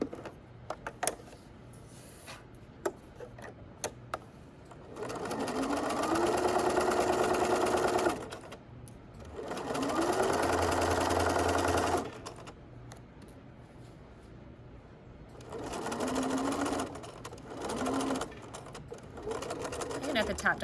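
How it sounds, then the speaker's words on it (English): A sewing machine stitches a patch pocket in three bursts of rapid, close mechanical whirring, each a few seconds long, separated by pauses with small clicks from the hand wheel and presser foot. "just double check that the stitch is actually catching the pocket"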